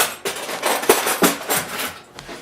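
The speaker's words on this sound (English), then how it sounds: "So I'm going to get a fork to stir this up" Fork stirring a salt and brown sugar mixture in a bowl for homemade lox, a quick run of scraping, clinking strokes close by, with no talking.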